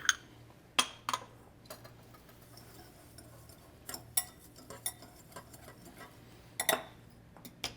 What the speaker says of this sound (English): we're just gonna put those in a bowl, mix them together